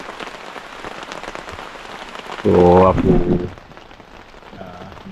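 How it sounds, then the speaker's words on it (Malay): Heavy rain at night drums on a camping tent in a steady, dense patter, with a louder burst in the middle where a voice speaks briefly, then the downpour continues alone. "Malam hujan lebat semalam."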